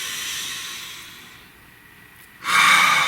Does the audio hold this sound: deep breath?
yes